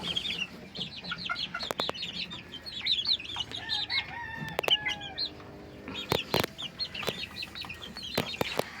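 Young chicks kept in a brooder peep in rapid overlapping chirps, with a rooster crowing and hens clucking at a distance, plus a few sharp knocks near the end.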